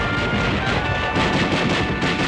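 Dense, continuous gunfire from Browning automatic rifles and machine guns in a WW2-era film about disabling a Japanese tank, with loud, overlapping bursts forming a sustained roar without gaps and no talking.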